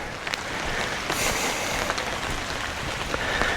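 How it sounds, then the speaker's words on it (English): Steady rain falls over a winter street in Pogradec, Albania, a constant soft hiss of drops spread evenly across the scene without pause, no voices present. "It's raining as usual"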